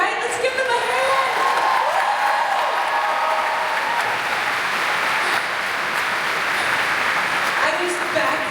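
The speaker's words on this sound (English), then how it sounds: "Let's give them a hand." Audience applause and cheering for Broadway singers performing at Destination D23, a dense steady wash of clapping from a large crowd sustained throughout, with some voices mixed in.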